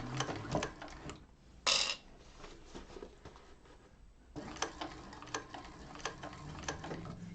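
A $5,000 sewing machine runs in short bursts of rapid, even ticking stitches while topstitching a bag, with quiet pauses and a brief brighter whir between runs.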